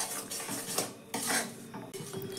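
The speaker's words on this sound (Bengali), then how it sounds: "প্রথমে গুড়টাকে একটু আমি নাড়াচাড়া করে পাক করে নেব" Jaggery is stirred in a pan as a utensil scrapes and clinks against the metal in uneven strokes, close and fairly quiet, with no voices.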